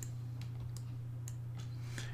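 Computer keyboard and mouse used while working in Photoshop: a handful of sparse, faint clicks and taps spaced irregularly over a steady low electrical hum, with no talk.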